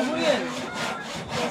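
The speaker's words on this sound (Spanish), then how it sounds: "Serrucho, serrucho." A handsaw cutting through wood in rhythmic back-and-forth rasping strokes, close and steady, with faint talk in the background.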